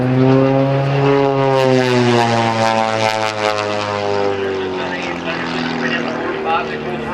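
Aerobatic propeller plane at an airshow rolling overhead, its loud steady engine drone shifting pitch as it passes, with a commentator talking over it throughout.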